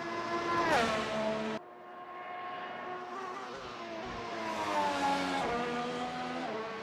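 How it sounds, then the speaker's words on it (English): A single-seater race car on a flying lap at Melbourne's Albert Park, engine screaming up through the gears, a sharp cut, then renewed acceleration with downshifts, fairly close and alone. "It's a beautiful car as Hughes comes out for a flying lap right now."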